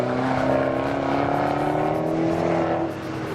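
Fiat 500 Abarth with a small turbo engine pushed hard through a run of corners, a loud steady engine drone with shifting pitch heard from inside the cabin, easing off near the end.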